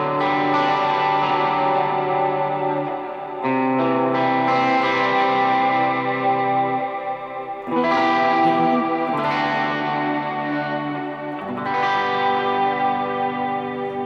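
An electric guitar plays through a worship pedalboard with tape echo and reverb engaged: sustained chords ring out in three swelling phrases, each lingering in a long, shimmering wash of repeats and reverb with no talking.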